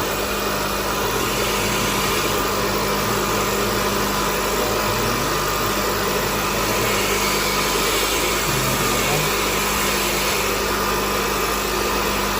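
An AC electric motor runs steadily during a speed-control test, giving a constant mechanical hum with a thin high whine that holds unchanged throughout, with no talking.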